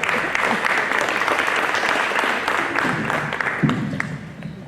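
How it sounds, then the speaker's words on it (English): A conference audience applauds the filmmakers behind a film honoured at the Korean Cultural Academy Award, a steady full round of clapping lasting throughout, with a brief voice heard near the end. "So let's give them a round of applause"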